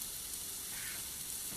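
Mushrooms frying in a generous amount of oil in a pan, giving off a steady, dense sizzle that holds evenly throughout.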